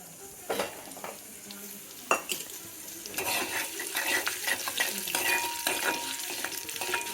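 Curry leaves for a tempering sizzle and crackle in hot oil while a spoon stirs the pan. The frying grows denser and louder toward the end, broken by a few sharp metal clinks.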